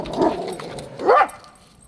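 A pet dog gives two separate barks about a second apart, fairly close and clear, with the second bark louder and higher than the first.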